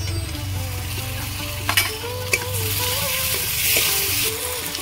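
Chopped tomato frying in hot oil with chili powder for a Bengali bombay duck curry, a steady close sizzle with a couple of sharp spatula clinks partway through.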